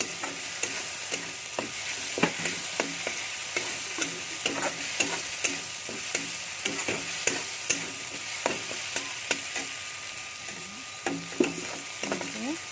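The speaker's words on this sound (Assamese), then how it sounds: "ধুনীয়াকৈ লৰাই দিব, মছলাখিনি গোটেই চবতে লাগে যেতিয়া।" A utensil stirs spices frying in a wok for a banana dish, with steady sizzling and repeated scraping clinks in an irregular rhythm, close by, with no voices.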